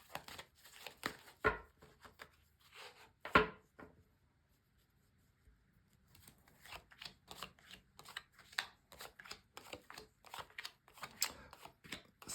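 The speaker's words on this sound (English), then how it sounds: "I'm just going to lay down your 10 cards on the table" Tarot cards laid one by one onto a table for a ten-card spread, producing soft slaps and papery rustles in an irregular rhythm, close and fairly quiet, with a short lull midway and no talking.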